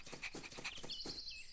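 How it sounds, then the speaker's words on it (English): A puppy pants in quick, close, rhythmic breaths and ends with a thin, high whimper, all quiet and brief. "this is my puppy, Hero."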